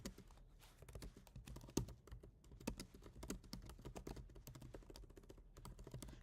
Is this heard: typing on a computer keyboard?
yes